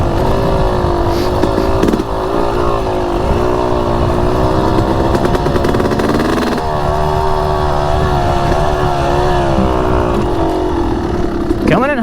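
A Yamaha YZ250X two-stroke dirt bike engine drones steadily up close, its pitch rising and falling as the throttle is worked, with a brief surge near the end.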